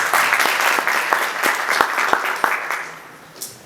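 An audience claps for several seconds at a public talk, dense and fairly loud, then thins out and fades, with one brief burst near the end.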